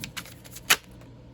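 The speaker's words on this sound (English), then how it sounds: "I don't know why I feel like I should keep shuffling for some reason." Playing cards being shuffled by hand during a tarot reading, a few quick soft riffling snaps with one sharper burst, close and alone.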